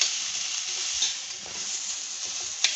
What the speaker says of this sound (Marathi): मिनिटभर चांगला परतून घ्यायचा आहे तुपावरती